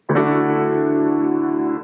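A single rich jazzy major ninth piano chord struck once and left ringing, sustaining evenly for nearly two seconds before cutting off.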